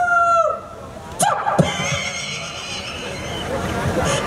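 A human voice mimics a rooster's crow in a short rising-and-falling call, followed by scattered clatter and background chatter.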